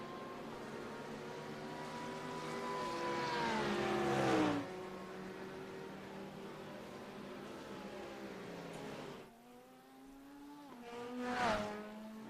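Porsche GTD race car in a sim racing game accelerates out of the Silverstone pits, the engine note climbing through gears with rising whines and shift drops, fairly faint and steady, with no talking.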